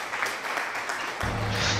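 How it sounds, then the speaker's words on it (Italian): Applause from a small crowd, a short burst of clapping that swells louder toward the end, heard alone without talk. "Applausi."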